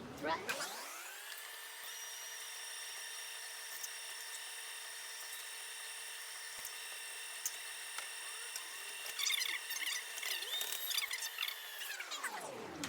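An electric meat grinder runs through pâté ingredients with a steady high motor whine that spins up, holds level and then winds down. Near the end faint clicks and brief knocks sound over it.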